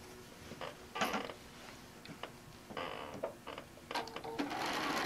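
A sewing machine stitches a short quilt tack across a corner of a fat-quarter quilt, giving a quiet, close series of brief mechanical stitching bursts with small clicks between them.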